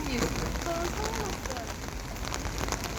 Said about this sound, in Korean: 비 점점 많이 오네 비가 너무 많이 온다